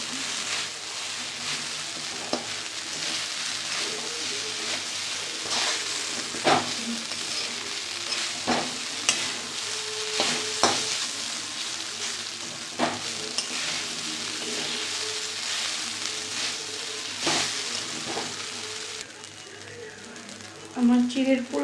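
Flattened rice pulao frying in Amul ghee, a loud continuous sizzle with repeated spatula scrapes and stirs against the pan, close up, with a voice speaking intermittently over it.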